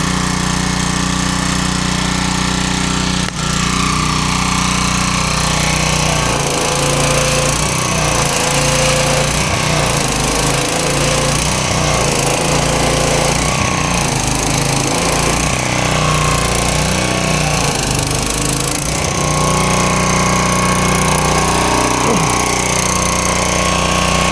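A small pressure washer engine runs loud and steady throughout, with a rough, surging drone and faint rattles, cleaning itself off after being revived.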